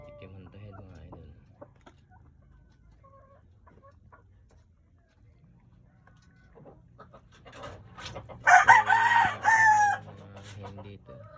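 A broodcock rooster, blind in one eye, high-stationed and black on the head, crows once loudly and close by, starting about two-thirds of the way in after quieter background sounds and low chatter.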